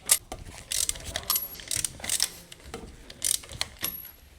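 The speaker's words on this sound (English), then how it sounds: "Using the large 19mm long socket with the large extendable ratcheting wrench, loose the right front wheel lug nuts" A large extendable ratcheting wrench with a 19mm long socket loosens the right front wheel lug nuts on a 2016–2021 Honda Civic, producing close, crisp bursts of ratchet clicks with short pauses between strokes.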